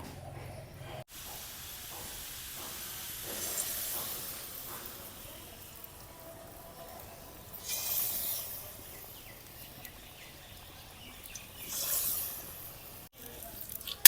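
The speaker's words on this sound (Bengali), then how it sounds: "হালকা তাপে উল্টা পাল্টা করে মালপোয়াটাকে ভেজে নিব।" Banana malpua batter fries in hot mustard oil, a soft, low hiss that swells and fades over a quiet background, with a faint clatter near the end.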